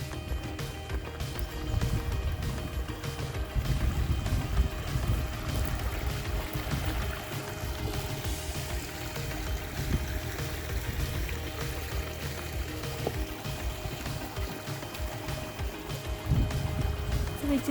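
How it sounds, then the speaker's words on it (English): A small stream flows beside a canyon trail near a little waterfall, a steady rushing and gurgling wash that continues evenly throughout, with no talking. "I hear water."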